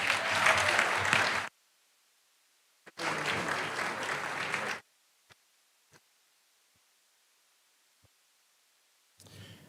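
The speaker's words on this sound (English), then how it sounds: "Give him a little applause." Two bursts of audience applause at a bar association general assembly, a short first round and a longer second, separated and followed by near silence with a few isolated claps before clapping resumes at the end.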